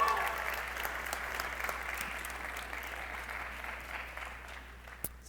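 An audience at a stage event applauds a guest, steady crowd clapping close to the microphone that tapers slightly toward the end, with a sharp knock near the close.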